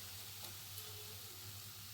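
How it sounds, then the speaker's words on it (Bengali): Jackfruit koftas fry in hot oil with a soft, steady sizzle, faint and continuous over a low background hum, no voices. "একই রকমভাবে বাকি কোফতাগুলোকেও ভেজে নেব"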